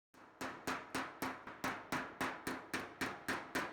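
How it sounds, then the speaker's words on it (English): A ball peen hammer pounds a metal oil pan from a Kubota diesel-swapped Honda in about a dozen sharp, evenly spaced strikes, each ringing briefly, close and alone. "I've somehow managed to reshape the pan with a ball peen hammer"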